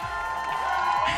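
An esports arena crowd at the Valorant VCT Americas Stage 2 playoffs cheers and whoops in a continuous roar that swells slightly toward the end.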